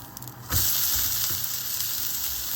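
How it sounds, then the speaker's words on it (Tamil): A wheat rava dosa hisses loudly on a hot pan right after being flipped, the sizzle jumping up abruptly after a brief quieter moment and then holding steady and close, with no voices. "இப்போ இந்த தோசையை திருப்பி போட்டுடலாம்."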